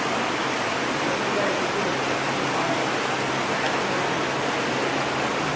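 Floodwater surges like a river past a shop in Jamaica, a loud, unbroken broadband roar of rushing water that holds steady throughout.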